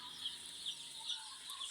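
Chickens on a poultry farm cluck and chirp in soft, high, repeated calls, faint and somewhat distant over a steady background hum.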